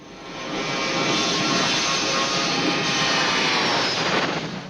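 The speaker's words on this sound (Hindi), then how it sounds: "In a few minutes from now, we will be landing at Bombay Airport." A steady, loud roar of an airliner's engines fills a film scene as the plane flies in on approach to Bombay Airport. The even wash of engine noise continues without a break.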